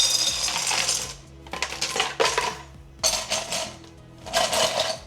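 Ice cubes dropped into chilled metal mixing bowls for homemade chocolate ice cream, several bursts of hard clinking and rattling, loud and close, with short pauses between each pour.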